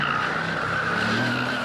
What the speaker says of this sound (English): No drama apart from that tyre squeal